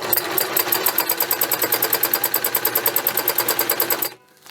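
A sewing machine does free-motion zigzag stitching on water-dissolvable film, a loud, fast, evenly pulsing run of needle strokes that stops abruptly near the end.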